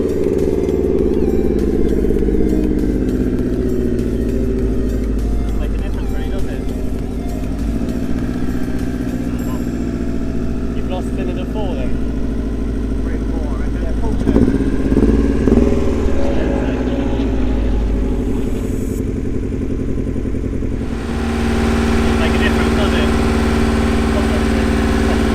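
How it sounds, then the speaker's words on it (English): Racing car engine running roughly on only two cylinders after losing compression on cylinders three and four at a track, a rough, lumpy idle that is steady and close, with people talking over it. "His car's running on basically 2 cylinders."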